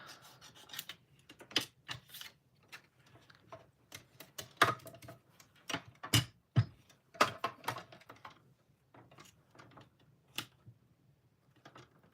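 Paper is cut with scissors or a trimmer while making a hidden paperclip stamped card, a series of close, sharp snips and rustles at an uneven pace.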